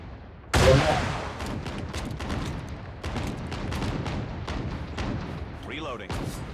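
Gunfire from an EM2 rifle in a shooting video game: a loud opening burst, then a rapid run of sharp, repeated shots at a fairly even rhythm, with faint game noise between them.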